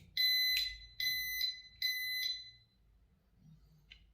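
A Desi Midline wireless burglar alarm panel gives its arming signal: four loud, sharp electronic beeps in quick succession, then quiet with a faint short chirp at the end.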